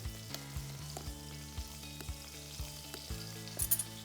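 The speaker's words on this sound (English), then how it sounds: "I'm going to cook this on one side, a few minutes until it's nicely brown" Kielbasa sausage sizzles in a pan with a steady, close crackle, and a few soft clinks and scrapes come through now and then.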